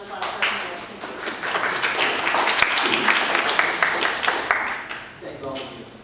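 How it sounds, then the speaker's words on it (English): Audience applause for the panelists at a health policy forum, steady dense clapping from a room of listeners for about six seconds, swelling in the middle and then tapering off. "round of applause for our panelists"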